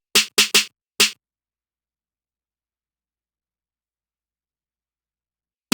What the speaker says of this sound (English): so I grabbed the second snare and layered.